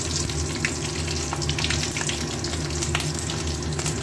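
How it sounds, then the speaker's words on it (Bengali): Green chili and nigella seeds sizzle in hot oil in a wok, a dense, continuous crackling hiss, close and loud, with small pops scattered through it and no voices. "তেলের মধ্যে দিয়ে দেবো একটা কাঁচা লঙ্কা ফোড়ন, আর দেবো কালো জিরা।"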